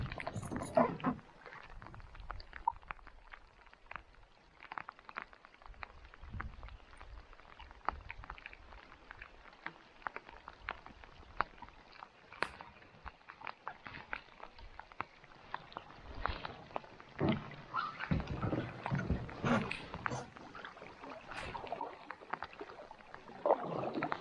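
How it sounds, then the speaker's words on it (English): Canoe paddling on an Algonquin lake in rain, with repeated soft splashes and drips of water around the boat, steady patter and occasional wind, close and moderately loud throughout. "back to paddling"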